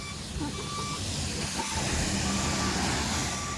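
Lorry moving through a rainy-season traffic jam, with steady engine rumble and broadband road noise and a faint reversing beep, continuous and fairly even in loudness.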